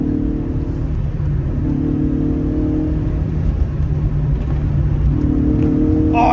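A 1990s Rover Coupe with a small Honda engine accelerates hard from inside the cabin, a steady loud mid-pitched drone whose tone climbs through the gears, with a brief lull and a fresh rise near the end.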